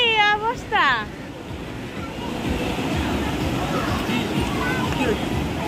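Ocean waves wash onto the beach at Digha in a continuous roar of surf, with a voice speaking briefly at the start.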